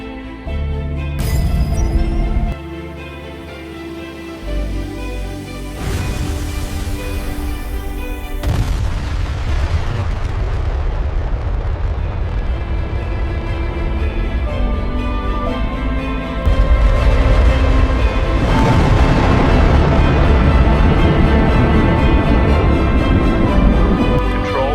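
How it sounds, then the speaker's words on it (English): Spacecraft thrusters firing after a launch roar loudly and continuously, with heavy booming surges swelling over a sustained tonal musical backdrop. "Thrusters are firing, attitude stable."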